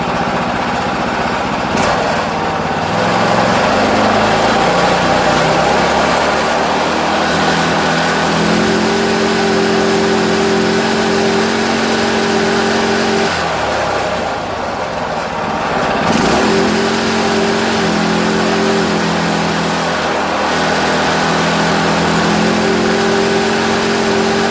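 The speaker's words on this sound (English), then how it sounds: "let the engine rev until it floats the valves" A small engine on a Hot Wheels racer revs hard and holds at high RPM, its loud whining drone wavering and flattening as the valves float, with brief dips before climbing again over about twenty-five seconds.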